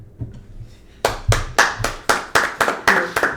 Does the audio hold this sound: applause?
yes